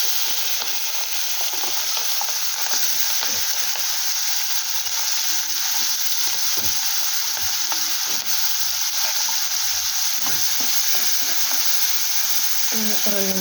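Sliced onions and green chillies fry in a pan with a loud, constant close-up sizzle and hiss, broken by repeated stirring scrapes and taps of a spoon.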